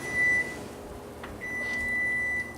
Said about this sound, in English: the timer's gone off.